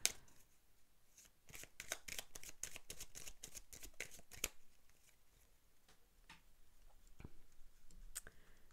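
Tarot de Marseille cards are shuffled close up, giving a quick, faint run of crisp riffling clicks and snaps that later thins into scattered single taps.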